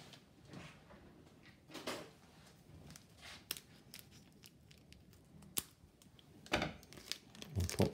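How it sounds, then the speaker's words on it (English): Plastic bag packaging crinkling and being snipped with scissors while unboxing a plastic model kit, irregular close rustles, crackles and sharp cuts separated by short pauses. "excuse me while I get a pair of scissors."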